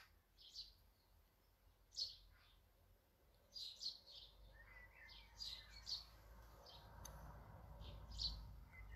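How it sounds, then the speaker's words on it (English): Small birds sing outdoors during a church morning prayer broadcast, with faint high chirps and short warbling phrases spaced irregularly over a quiet, slightly rumbly background and no talking. "bird song."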